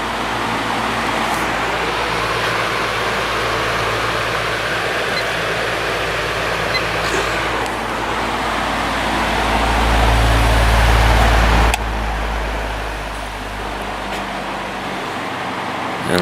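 Patton 18 inch electric fan on medium speed, a steady loud whooshing airflow with a low motor hum that swells briefly near the middle, no voices.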